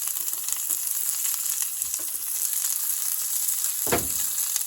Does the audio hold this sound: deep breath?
no